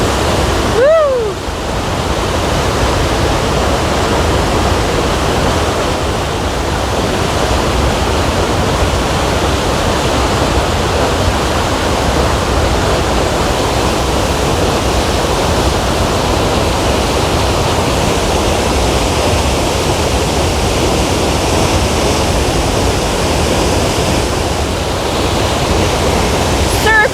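A waterfall in a North Carolina temperate rainforest roars as a loud, steady, broadband rush that fills the whole stretch without letup, with a brief voice near the start.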